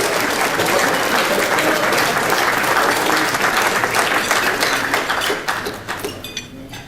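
Board members at a WSBCBA event get a sustained round of applause from the crowd. The dense clapping stays steady, then thins into scattered claps and fades at the end.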